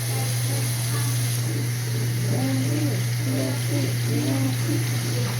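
Tap water runs steadily over a store-bought tomato being washed at a kitchen sink, a constant rushing flow with a low hum underneath and faint speech-like murmurs in the background.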